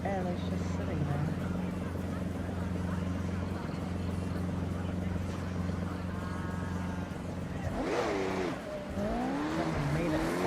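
Cars roar along and tires squeal in the Forza Horizon 6 racing game, a steady engine drone with a sharp skid near the end, heard under people chatting throughout.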